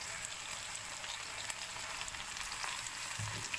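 Onions sizzle in a generous amount of fat in a pan at medium heat, a faint, even crackle with scattered pops and no voices.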